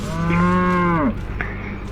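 A buffalo in the horror video game Piche Tai lets out one loud, drawn-out moo lasting about a second, followed by a short fainter grunt against a quiet background.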